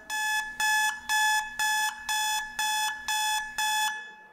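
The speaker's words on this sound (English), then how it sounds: "Beeping alarm clocks." Beeping alarm clock sounding alone in eight regular bursts of rapid, loud electronic beeps, each about half a second long with short gaps between them.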